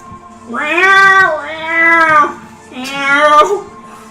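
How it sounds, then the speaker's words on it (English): A cat meows loudly three times in drawn-out, rising and falling cries, with a slightly thin, boxy quality like it's coming through a speaker. "You hear a bunch of meowing, and then it abruptly ends."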